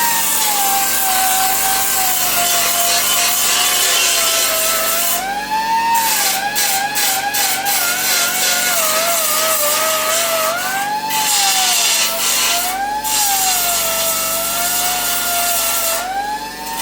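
A GTS coupe cowl panel is ground and smoothed with a power tool, a continuous loud whining grind with pitch rising and dipping as pressure changes, broken by brief harsher scraping bursts.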